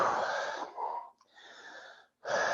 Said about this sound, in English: Only inhales, only exhales.